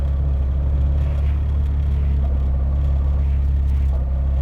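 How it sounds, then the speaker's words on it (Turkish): A car idling in neutral with a steady low engine rumble and a faint rustling whir from the gearbox, continuous and close throughout, with no talking. "Araba boştayken şanzımanda böyle bir hışırtı geliyor."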